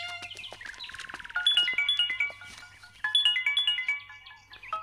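A bright, chirpy electronic ringtone melody repeating in quick stepped phrases, playing on its own.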